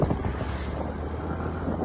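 Steady low rumble with wind buffeting the microphone, like riding a scooter outdoors; a constant engine-and-wind roar with no talk.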